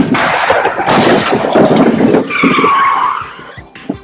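A Hot Wheels diecast toy race car brakes hard in a Saturday morning cartoon, a loud, sustained tire skid and screech lasting several seconds, close and dominant with no talk.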